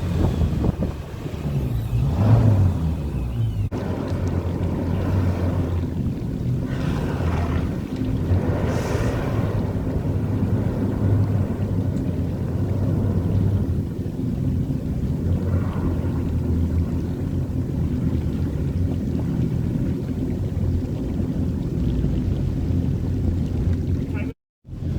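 A 2023 Yamaha 222XD jet boat's engine rumbles steadily beneath wind and water noise during slow maneuvering, with a short stronger surge early on, before cutting off abruptly near the end.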